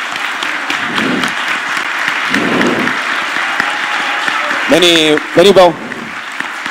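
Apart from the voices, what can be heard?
audience applause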